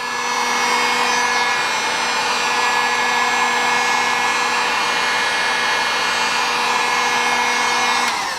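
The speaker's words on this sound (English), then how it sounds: "we're going to use the heat gun throughout this whole process" A heat gun blowing hot air while a boat's rub rail is fitted, a loud continuous whooshing fan-and-motor hum with a steady tone that runs unbroken from start to finish.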